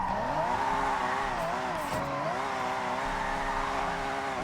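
Forza Horizon 6 car drifting on a wheel, engine pitch wavering and dipping as the car slides between corners, a sustained tire squeal and drone filling the whole stretch, loud and close.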